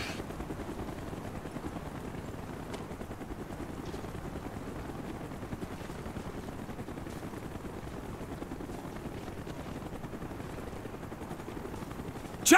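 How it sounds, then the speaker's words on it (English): A military helicopter in Call of Duty Black Ops thrums with a steady, rapid rotor chop held at an even, moderate level throughout, with no speech over it. "Chopper's inbound!"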